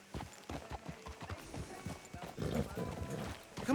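Horse hooves clip-clop on a town street in the Western video game Red Dead Redemption II, a fairly quick, uneven walking rhythm that stays moderately close with faint background ambience and no talk.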